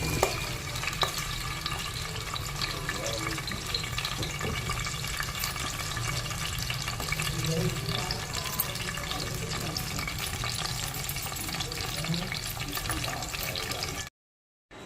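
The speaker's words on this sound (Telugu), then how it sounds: "ఇప్పుడు ముందుగా కట్ చేసి పెట్టుకున్న ఆనియన్, కరివేపాకు వేస్తున్నానండి ఆయిల్లో" Chopped onion and curry leaves fry in hot oil in a home kitchen, giving a steady, dense crackling sizzle close by that runs unbroken before it stops abruptly.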